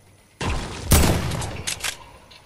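Video game gunfire: a sharp burst of shots bursts in, followed by a louder blast that decays, with two more brief bursts near the end, close and loud, no talking.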